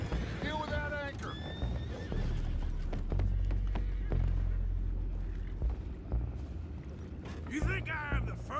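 Horses whinny loudly at the start and again near the end in Red Dead Redemption 2, with hoof clatter and rumbling water around a boat, and a voice talking in between.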